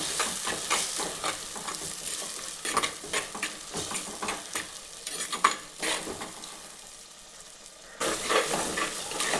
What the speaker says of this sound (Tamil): உப்பு சேர்த்து வதக்கும் போது சீக்கிரமாக அந்த வெங்காயம் தக்காளி வதங்கும்